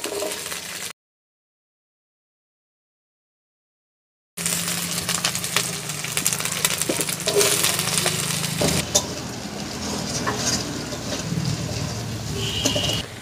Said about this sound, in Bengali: এই সবজিগুলো সব ভেজে নেব ভালো করে